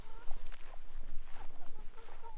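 Chickens clucking around a small farm, a few scattered clucks and soft footsteps over a light outdoor background, close and moderately loud.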